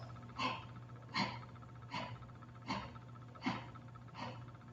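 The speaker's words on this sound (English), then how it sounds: "then we do that breath with the mouth closed" Six steady, forceful breaths sharply drawn in and pushed out through the nose with the mouth closed, evenly spaced about a second apart over a low constant hum, close and fairly quiet.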